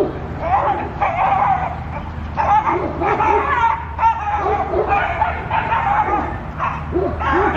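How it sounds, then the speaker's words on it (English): Several dogs bark and yip outdoors in repeated overlapping bursts, some whimpering in between, loud and close, with a low steady hum beneath. "they're just barking."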